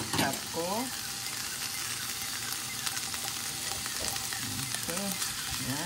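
Onions and a pork chop sauté in a hot pan, a steady close sizzle with occasional stirring, while a voice talks briefly over it.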